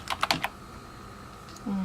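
Keystrokes on a computer keyboard as a name is entered, a quick cluster of about five sharp clicks at the start, then quiet room tone ending in a low hum.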